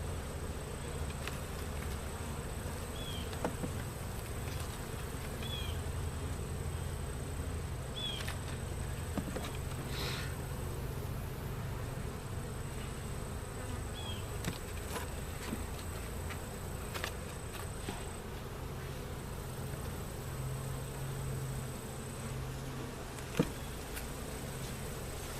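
A small bee swarm hums steadily around the frames of a hive, a constant low buzzing with a few individual bees passing closer, under a faint steady tone and with no voices.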